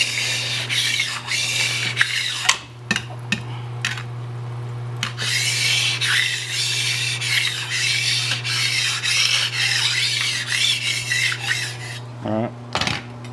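Metal scraper rasping across a home flat-top griddle as it cools, a steady close scraping with a low hum underneath and a few sharp clanks, no talk.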